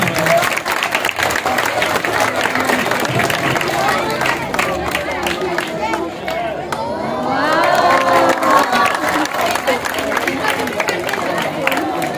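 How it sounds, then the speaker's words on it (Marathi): Loud audience applause and cheering with children shouting at a children's drawing competition, sustained crowd clapping throughout with a rise near the end. "जोरदार टाळ्या होता"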